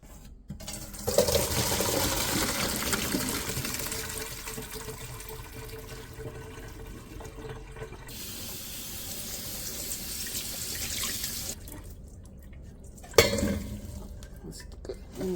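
Kitchen tap runs water for washing while making mulberry jam: steady close rushing splash of the faucet for several seconds, shifting in tone as hands or items move under the stream, with brief pauses, a sharp clatter, and no talking.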